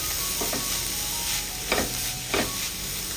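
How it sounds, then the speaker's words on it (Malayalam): Food being stirred in an oil-filled pan with leftover chapati, a steady background sizzle broken by a few distinct scraping strokes of the spoon. "ജസ്റ്റ് ഒന്ന് ഇളക്കി കൊടുക്കാം."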